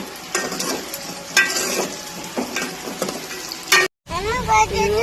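Green chillies fry and crackle in a pan while a spatula stirs them in periodic scraping bursts, close and fairly loud, with a brief dropout near the end.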